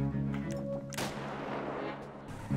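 A single loud gunshot from a handgun in GTA 5 roleplay cracks out sharply mid-clip, its burst spreading across the whole range and decaying over a second of reverberation, with engine-like low hum before and after.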